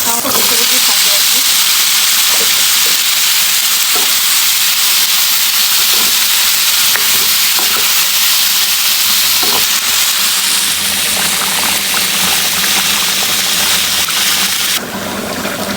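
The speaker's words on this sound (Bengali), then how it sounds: "এখন এটাকে একটু নেড়ে চেড়ে ভাজা ভাজা করবো" Green beans frying with onion, chili and garlic in a pan, a steady loud sizzle and hiss with scraping stirring strokes throughout.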